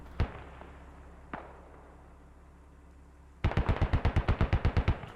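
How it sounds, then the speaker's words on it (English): Artillery and automatic gunfire in the war game MARS: Scarlet Storm Rising. Two isolated booms come first, then a fast, loud burst of about fifteen evenly spaced shots. "I'm hearing more artillery being shot out here"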